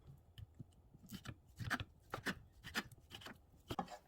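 Button mushrooms are sliced into thick pieces on a board, producing a series of quiet, close knife cuts with soft taps and scrapes at an uneven pace.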